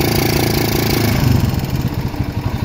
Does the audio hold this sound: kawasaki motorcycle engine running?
yes